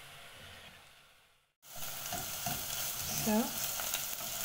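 Onions sizzle and hiss in a hot pan as they are stirred, a steady frying crackle that starts abruptly after a brief quiet and stays close and moderate, with a short spoken word at the start.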